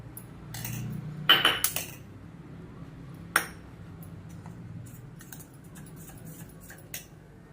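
A spoon clinking against a bowl while vanilla custard powder is stirred into cold milk: a few sharp metallic taps and scrapes early on, then mostly quiet with a single later tap.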